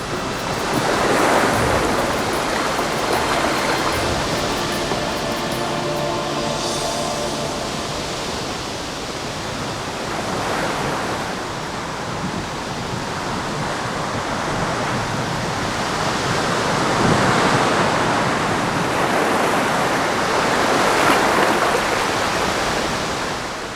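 Sea waves roll onto the Baltic coast of Germany, a loud, continuous wash of surf that swells and recedes in broad surges with no voices.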